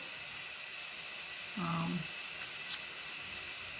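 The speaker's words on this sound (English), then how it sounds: "Just release the steam." Steam vents from a pressure cooker of beef roast, potatoes and carrots in a loud, steady high hiss that runs the whole time, with a brief voice speaking over it partway through.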